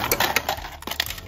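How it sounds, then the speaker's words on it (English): Cubed ice dropping from a Kenmore side-by-side refrigerator dispenser, a quick scatter of hard clinks and rattles over about a second, close and fairly loud. "We got cubed ice."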